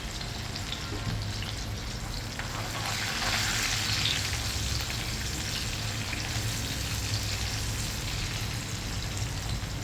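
Finely chopped garlic and chilies sizzle in a pan while being sautéed until brown, a steady, dense crackling frying hiss that holds loud throughout with no one talking.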